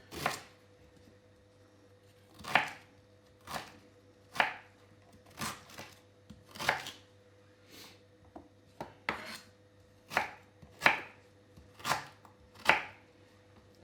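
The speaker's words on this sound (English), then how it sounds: "so you just have to chop that up so it can blend nicely" A knife chops ginger steadily on a cutting board, roughly a dozen crisp, close-up strikes at an even, unhurried pace with brief pauses.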